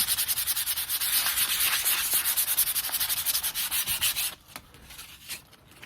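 150 grit sandpaper rubbed by hand across a vintage sledgehammer head, fast rhythmic rasping strokes close and steady, then slowing to a few scattered scrapes near the end.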